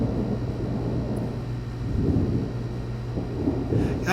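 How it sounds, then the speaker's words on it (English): Thunderstorm in The Sims 3 rumbles on with low rolling thunder and a steady wash of rain and wind, continuous and fairly loud with no talking. "now that it's finally decided to stop snowing, we're going back to the monster storms here."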